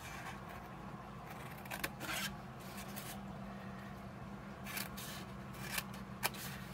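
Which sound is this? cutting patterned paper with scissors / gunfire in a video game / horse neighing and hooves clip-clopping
cutting patterned paper with scissors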